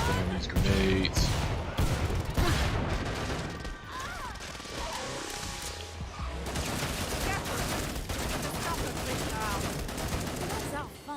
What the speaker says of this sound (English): throwing these grenades